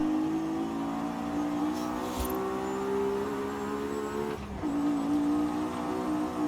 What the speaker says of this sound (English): That's the interior sound that I wanted. High revving, car beat up.